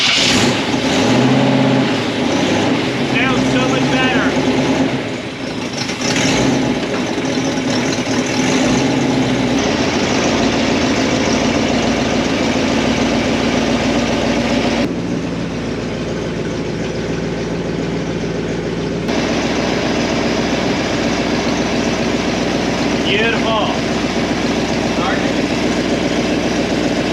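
A 1962 Ford Thunderbird 428 engine, unrun for over 24 years, runs rough and loud nearby, idling with occasional revs rising and falling, with voices talking over it at times.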